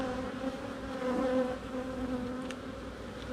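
Honey bees buzz steadily at an open, queenless hive in Jamaica during queen grafting, a dense close hum with a few louder passes near the middle and no talk.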